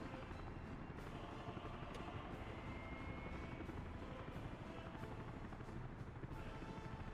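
A helicopter in Workers & Resources: Soviet Republic drones steadily with a continuous rotor whir and faint periodic blade thumps, heard alone at low level.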